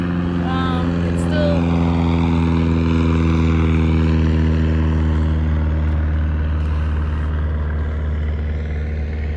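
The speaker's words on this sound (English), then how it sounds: "looks like there's a plane going by" A steady, droning airplane engine hums loud and constant overhead on the water of the Salish Sea, with a low propeller-like rumble and no pauses.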